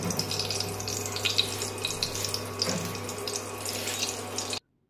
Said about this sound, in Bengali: এবারে ফোড়নটা খিচুড়ির মধ্যে দিয়ে দেওয়া হলো।